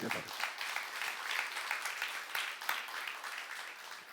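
Applause from a church youth congregation during a sermon, a fairly soft, dense, continuous clatter of many hands without a break.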